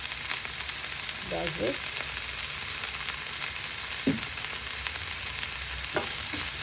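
Onions fry and caramelize with a pinch of salt in a pan, a steady close sizzle running throughout, with occasional stirring scrapes and a brief spoken phrase.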